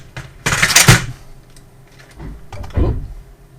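A computer keyboard falling from a raised spot, landing with a sharp clattering crash, a short rattle, then a second duller thud a couple of seconds later, close by in a quiet room.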